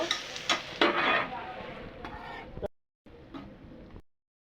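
Potatoes and onions frying in a pan, with a few louder spatula stirs and scrapes over a moderate sizzle before it breaks off briefly and resumes more faintly.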